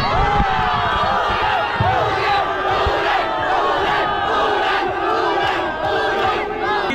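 A big crowd yells and cheers loudly and continuously, voices roaring together with scattered shouts and stomping underneath, never letting up.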